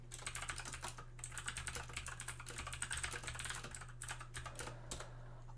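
Rapid typing on a computer keyboard during a Legends of Runeterra session goes on for several seconds, with dense, uneven bursts of clicks and a brief pause before the keystrokes start again. A steady low electrical hum sits underneath.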